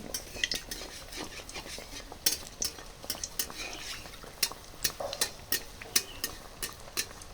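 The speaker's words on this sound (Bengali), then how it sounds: "তো আমাদের চপ ভাজা হচ্ছে" Potato chops fry in oil that hisses softly in a pan while metal utensils clink and scrape against it in irregular taps, with no one talking.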